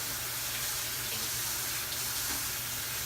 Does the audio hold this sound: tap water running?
yes